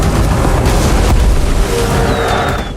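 A loud, sustained roar of heavy bomb explosions and rumbling booms from an air attack on a Japanese aircraft carrier in the film Midway (2019), with a thin whistling tone descending near the end.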